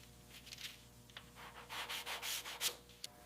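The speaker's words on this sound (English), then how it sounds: "smoothing out the imperfections on the roof. Sanding is crucial." Metal roof of a crushed 1957 Chevy Bel Air being sanded smooth, with steady gritty rubbing strokes in repeated bursts, growing louder and more rhythmic, close up and without talk.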